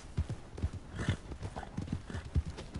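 A horse gallops in Red Dead Redemption 2 with steady, rhythmic clip-clop hoofbeats, fairly close and continuous, with a faint whinny-like tone in the middle.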